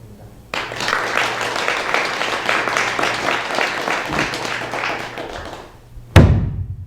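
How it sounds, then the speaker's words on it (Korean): A Buddhist dharma-talk audience claps to welcome a monk at a special service, steady applause lasting several seconds before a loud thump at the end. "오늘 법문해 주실 명인스님께 박수로 맞이하겠습니다."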